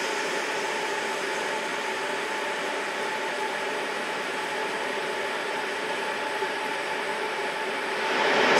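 Dayette air purifier fan on its turbo setting, a loud steady rushing whoosh of air that holds evenly throughout and swells slightly at the very end, with no talk.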